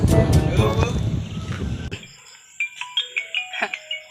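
A phone ringtone plays a repeating electronic melody of bright, short notes. It follows a stretch of loud talking and noise, then rings alone and clearly.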